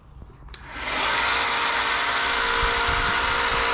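A belt grinder shaping the plunge grind on a bushcraft knife blade spins up after a short quiet start into a loud, steady high-pitched whine that holds to the end, close and with no talk.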